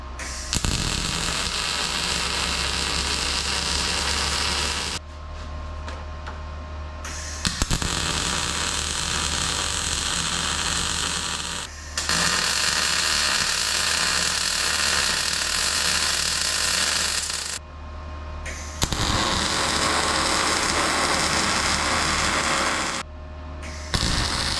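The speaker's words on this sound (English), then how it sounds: "Throw a little weld on here." Round steel tube on a Harley-powered golf cart frame is welded in long continuous bursts of loud, steady crackling hiss, broken by short pauses between beads, with no voices.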